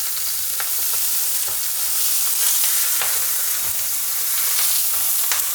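Meat searing in a hot pan during home cooking, a steady close sizzle and hiss running throughout with occasional crackles and pops, no talk.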